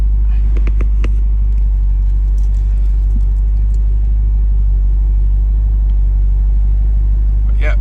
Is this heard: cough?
no